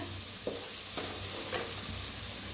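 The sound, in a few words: spices roasting in oil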